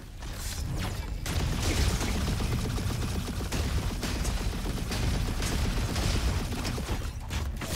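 Gunfire aimed at tanks in the video game Roboquest, a dense, continuous rattle of rapid shots with mechanical clanks, loud and sustained throughout with brief dips.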